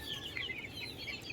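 Five-month-old crossbred chickens cluck and chirp faintly in a yard, a soft continuous chatter of several birds with no talk.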